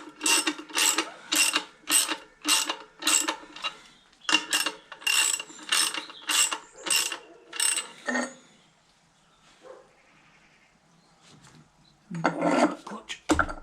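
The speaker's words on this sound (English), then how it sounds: "I'm going to use my old torque wrench" An old torque wrench ratcheting on the flywheel bolts of a 1955 Fordson Major tractor, a steady series of about a dozen close, loud ratchet strokes, then a pause with faint clinks and one last burst.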